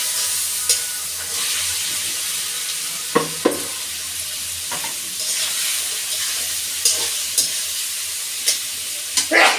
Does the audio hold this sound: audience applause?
no